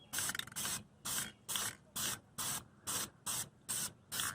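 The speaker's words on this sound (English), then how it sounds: "And now I'm just going to apply one more light coat of clear coat." Short bursts from a spray can lay a light coat of clear coat over repaired car paint, about nine hissing pulses in a steady rhythm with brief gaps, close and soft, no speech.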